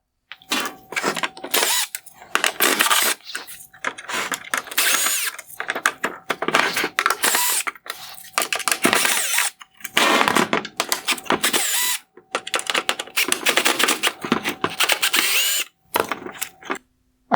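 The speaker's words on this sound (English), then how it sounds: "I will remove all of the Phillips head screws now." Cordless power driver removing Phillips head screws from a Toyota RAV4 LED headlight housing, loud whirring bursts of a few seconds each separated by short silences, repeated many times with no talking.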